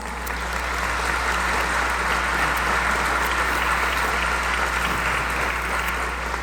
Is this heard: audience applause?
yes